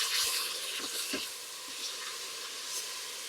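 Garlic sautéing in vegetable oil in a very hot pot, a steady broadband sizzle and hiss close by with a few faint clicks, no talking.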